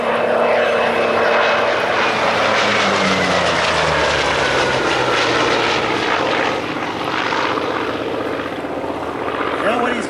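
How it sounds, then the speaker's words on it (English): A vintage Grumman Bearcat piston fighter makes a loud low fly-by, its propeller engine drone swelling close with a falling pitch as it passes, then fading into a steady rumble. "Here we go, final pass of the Bearcat. Coming in from the right."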